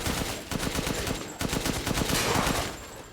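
Rapid bursts of automatic gunfire from a Resident Evil Village speedrun, aimed at armored enemies in the game, rattle out as dense repeated shots in two close volleys, loud and continuous with no talking.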